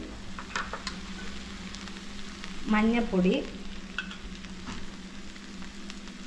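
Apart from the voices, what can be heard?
spice powders sizzling while sautéed with onions and tomatoes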